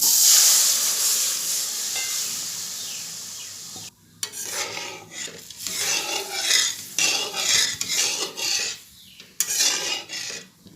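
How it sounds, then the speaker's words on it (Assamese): A faint sizzle fades out, then a spoon scrapes and stirs through thick boiled moong dal in a pot in repeated, uneven strokes. "মগু দাইলখিনি ভালদৰে লৰাই দি তাত উতলিবলৈ দিব।"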